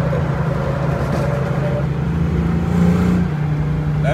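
A 5.0 Fox Body Mustang convertible cruises along, with a steady low engine drone and road noise, a slight swell of revving near the end, and no voices.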